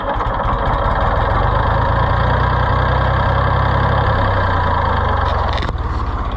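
A rusty, neglected Ford 4000 tractor engine with previously backwards wiring runs roughly, holding a loud, steady close-up idle that shifts briefly near the end.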